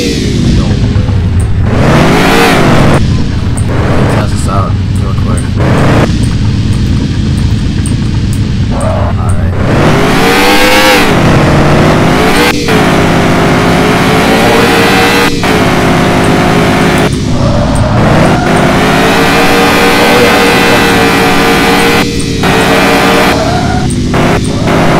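Car engine in the Car For Sale Simulator 2023 video game revving loudly and repeatedly, rising and falling in pitch over a steady drone, with brief gaps between revs and no talking.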